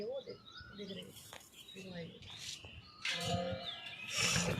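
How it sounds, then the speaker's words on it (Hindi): Small birds chirping at a home, bright short tweets and calls scattered irregularly and growing busier toward the end, near and clear, with soft talk and household noises mixed underneath. "ये मम्मी ने चिड़िया को भगा दिया जो बैठी थी।"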